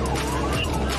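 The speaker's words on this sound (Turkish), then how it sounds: "You hear my sirens?" A police car siren wails steadily over the car's rumbling engine, loud and close, with no pauses in the one-second stretch.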